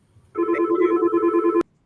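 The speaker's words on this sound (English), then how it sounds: "y'all go ahead and answer that phone" A telephone rings once in a steady, bright electronic tone lasting just over a second, loud and close, then cuts off abruptly into silence.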